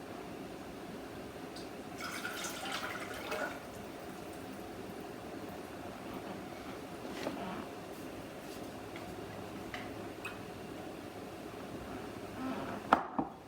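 White vinegar and extra virgin olive oil pour into a small pot for marinated mushrooms, a faint, quiet trickle and splash of liquid lasting several seconds.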